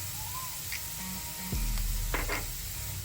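Onions frying in a pan for Kerala chicken pola, a steady soft sizzle running throughout with a few light scraping clicks and a low thump partway through.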